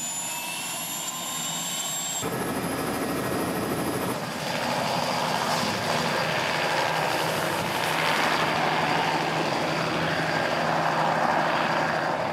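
A helicopter's turbine whine and rotor roar fill the scene over the ocean, loud and steady, rising into a broad, continuous rumble after the first few seconds.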